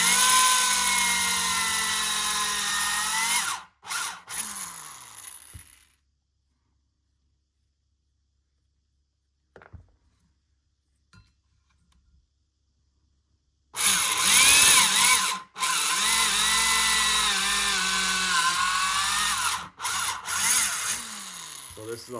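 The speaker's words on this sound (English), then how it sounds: "New valve guides. And now we're reaming them out to be perfect." Power reaming new valve guides in a 1972 Honda CB750 cylinder head, a loud, steady whirring drill whine in two long runs separated by a long quiet stretch with faint clicks.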